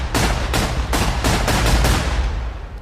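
Gunfire in the video game Battleglide, a loud rapid burst of about seven shots in quick succession, close and booming, no talking.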